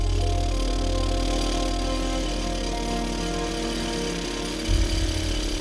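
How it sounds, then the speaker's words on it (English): A rock drill bores into rock for long rock bolts on a railway cliff, hammering loudly and continuously at close range with a steady percussive roar and deep engine hum. "He's going to drill 3-meter and 4-meter long bolts into the rocks"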